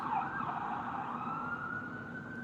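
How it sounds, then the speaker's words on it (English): A steady wailing siren holds a sustained tone with a slow pitch drift, moderately loud, with faint background noise and no talk. "Ironic, we're hearing the sirens, right?"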